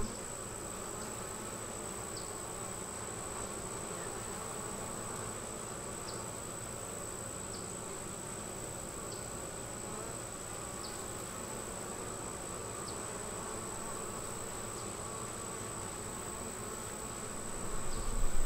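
Honey bees buzz around a hive entrance with a guardian entrance fitted, making a steady, close, continuous drone that carries on alone throughout.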